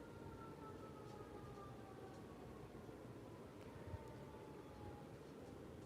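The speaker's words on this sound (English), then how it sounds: "I just heard a siren." A siren wails in the distance outside a window, its steady rising and falling tone faint over constant low background rumble.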